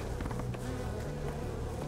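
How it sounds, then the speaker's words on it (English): Dense, continuous buzzing of a swarm of bees in a video game, close and steady throughout with no talking. "Oh, no, it's bees."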